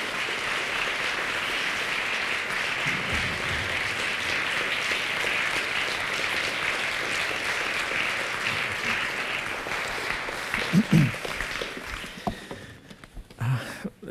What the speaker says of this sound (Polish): Przywitajmy oklaskami Krzysztof Zanussi.